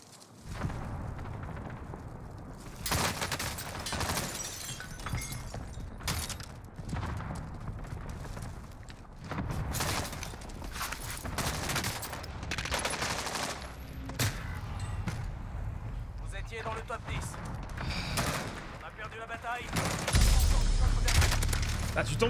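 Gunfire in the Warzone battle royale game crackles in repeated bursts of shots and automatic fire, loud and fairly close, spread across the whole stretch with people talking over it at times.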